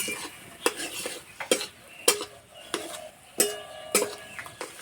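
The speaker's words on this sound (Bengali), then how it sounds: "এইভাবে কিছুক্ষণ নাড়াচাড়া করে নেব।" Potatoes seasoned with salt get stirred in a pan, with a series of sharp scraping clacks from the utensil against the pan at irregular intervals over a faint background sizzle.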